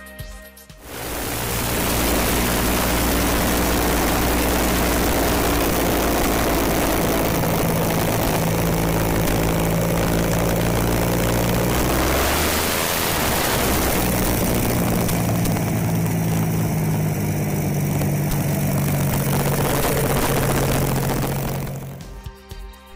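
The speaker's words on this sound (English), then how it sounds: "Tarso's creation includes a 300-horsepower, six-cylinder Rolls-Royce Continental engine, widely used in aviation during the 1960s." A 300-horsepower six-cylinder Rolls-Royce Continental aviation engine mounted on a motorcycle runs loud and steady, a deep droning roar whose pitch dips briefly midway then climbs again before fading out at the end, with no voices.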